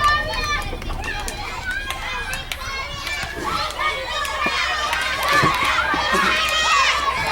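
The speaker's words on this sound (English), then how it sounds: "To the shouts of the students." Crowds of students shout, scream and cheer continuously at a school sports race, a dense, loud wall of young voices with excited calls rising and falling throughout.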